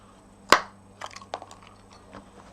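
A 1/8 inch handheld circle punch pierces a paper gift bag with one sharp, close snap, followed by a few softer crinkles and taps of paper.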